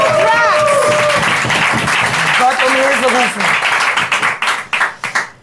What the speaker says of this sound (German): Ich finde, wir sollten mal für diesen Drogenentzug noch mal einen Applaus machen.